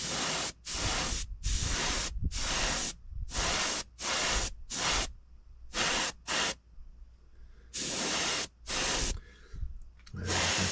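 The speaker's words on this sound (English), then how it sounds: "this is made for spraying in the airbrush." Repeated bursts of airbrush spraying Vallejo paint, a steady broadband hiss switching on and off about a dozen times with brief silent gaps between.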